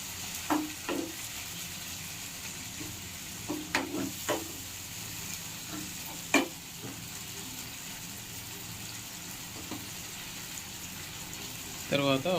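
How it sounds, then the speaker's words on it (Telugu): Chicken curry fries in a pan with a soft, steady sizzle, broken by scattered scrapes and clinks of a spoon stirring, then a brief louder burst of frying near the end. "ఇలా బాగా ఫ్రై చేసుకోవాలి"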